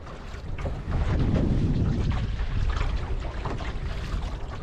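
A sailboat beats bow-on into choppy seas, with loud, continuous wind buffeting the microphone and water rushing and slapping against the hull throughout, and no voices.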